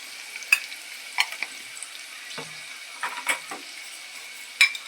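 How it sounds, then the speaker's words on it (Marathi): Onion frying in oil with asafoetida, turmeric to follow, gives a quiet, low hiss broken by several sharp spoon scrapes and clinks against the pan at irregular intervals. "कांदा जवळजवळ फ्राय झालेला आहे"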